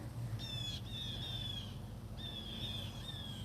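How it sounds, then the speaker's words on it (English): Several birds call in a garden during a November walk, giving short, bright, repeated squawks and chirps in two clusters over steady low outdoor background noise. "It's so cool, right? The sound of the birds."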